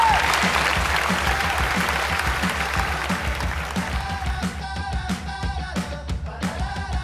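A studio audience on a Vietnamese comedy game show breaks into loud, sustained applause welcoming a singer, a dense roar of clapping that thins toward the end into scattered individual claps.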